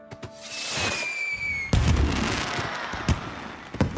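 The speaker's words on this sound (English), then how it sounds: "Thomas waited in the castle station and watched the fireworks." Fireworks burst over a castle station in a cartoon scene: a rising whistle, a loud bang, then crackling pops and further sharp reports.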